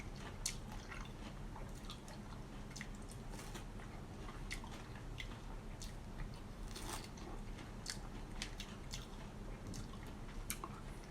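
Someone bites and chews sweet, juicy Phu Lae pineapple up close, producing a steady stream of wet crunches, squishes and smacking bites over a low background hum.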